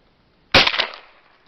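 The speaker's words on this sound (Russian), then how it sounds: "Выстрел же сильный." A single close, sharp gunshot fires 8mm buckshot into paraffin, bursting out of near silence and dying away within about half a second, with no talking.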